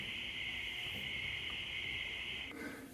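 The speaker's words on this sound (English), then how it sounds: "the crickets are giving us a serenade" Crickets chirp at night on a farm in summer, a steady, unbroken high-pitched trill heard faint and at a distance, which cuts off near the end and leaves a quieter hiss behind.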